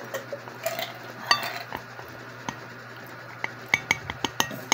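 A spoon stirs soup in a pot, scraping softly, then clinks repeatedly against the metal rim and dishes in quick sharp taps near the end, close and with no talk.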